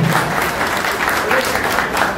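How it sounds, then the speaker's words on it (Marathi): An audience at a Marathi book launch in Dombivli claps loudly and evenly without a break, a dense wall of applause from the crowd. "त्याच्यासाठी एकदा जोरदार टाळ्या झाल्या पाहिजे"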